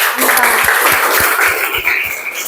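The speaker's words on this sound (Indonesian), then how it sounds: "Kita tepuk tangan buat kelompok" A class of students applauding a student group, a loud steady patter of many hands clapping together close by, sustained throughout.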